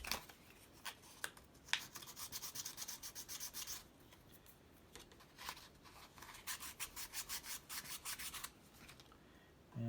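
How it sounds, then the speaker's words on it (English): Sandpaper rubs against a small wooden mechanical windmill model part, giving dry, scratchy back-and-forth strokes in irregular bursts with short pauses, close and fairly quiet. "Now we need to apply a little bit of a sandpaper on inside on"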